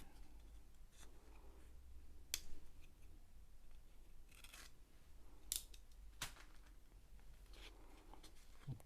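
Close, quiet knife cuts slicing open a taped parcel from AliExpress, a series of short sharp scratches and snips scattered irregularly over a low background hush.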